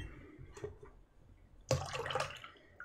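Water sloshes inside a container in the Prison Architect game, a sudden splashy surge after a quiet, faintly dripping stretch, then a brief churning tail.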